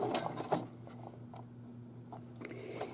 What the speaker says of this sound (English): I'm going to drop my needle down, and I want to do a couple of stitches forward, and then don't forget to back stitch